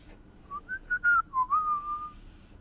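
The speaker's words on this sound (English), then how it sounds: "I gotta stop whistling" A person whistles a short rising and falling tune of about eight clear notes, near and alone over a quiet background.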